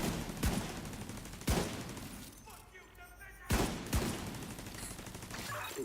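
Heavy SVD sniper rifle shots in The Division 2, fired four times in a slow, uneven rhythm, each a sharp close report with a lingering tail over a busy game soundscape.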